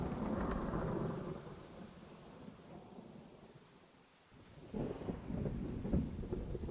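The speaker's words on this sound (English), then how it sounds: "As it is thundering a lot." Thunder in the video game Minecraft, rumbling over steady rain, fading to a lull midway and then rolling back in loud, with no talking.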